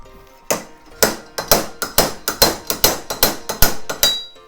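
Sharp metallic hammering from an inertia bearing puller pulling a bearing from a supermoto hub, about fifteen hard knocks in a steady, fairly quick rhythm, close and loud with ringing tails.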